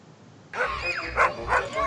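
A small dog yips and barks in a pet waste commercial, with several sharp, whimpering barks close up after a brief quiet start, heard alone without talk.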